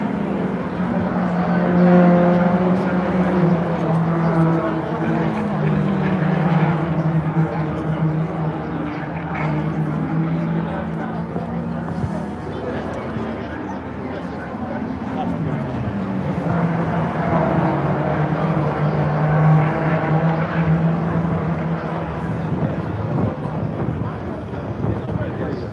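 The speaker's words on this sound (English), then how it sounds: "So you've now got three cars coming down Wellington Straight." Three MG race cars run nose to tail down Wellington Straight at Silverstone, their engines a sustained droning roar with rising and falling pitch as they pass. A commentator talks over them the whole time.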